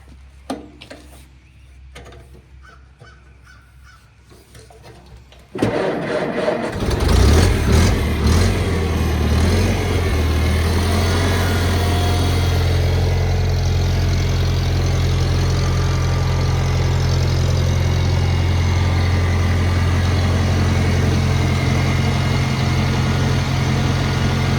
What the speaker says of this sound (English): We'll let it run idle for a little bit